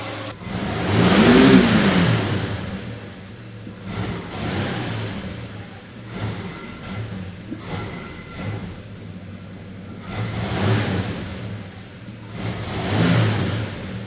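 A street car's engine is driven gently and accelerates a little, its mid-pitched rumble rising and falling over several swells, fairly close, with no talk.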